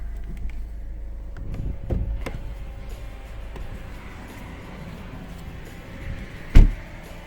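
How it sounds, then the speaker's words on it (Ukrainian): Mechanical clicks and rustling as the hood of a Volkswagen Golf 7 1.6 TDI is opened, ending in a sharp, loud clunk as the latch releases, over a steady low hum. "Зараз відкрию підкапотний простір."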